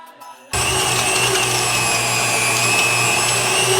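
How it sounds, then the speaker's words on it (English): A vacuum sealer starts abruptly and runs in a steady, loud motor whir while sealing homemade Lao sausage, after a brief quieter moment. "Vacuum seal."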